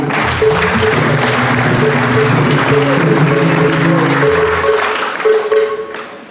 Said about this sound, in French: Applaudissons pour Saint.